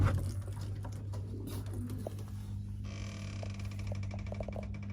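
Pet pigeons in a loft, fed Buckfast tonic, make soft low cooing and patter sounds over a steady low hum, with small scattered chirps and rustles nearby throughout.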